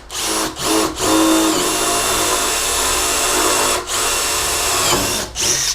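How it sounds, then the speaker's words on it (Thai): A power drill bites into a center-punched mark, motor whining loud and close in several sustained bursts with short pauses between. "เวลาผมจะเจาะมันก็จะ สามารถวางดอกสว่านเข้าไปได้เลยนะครับ"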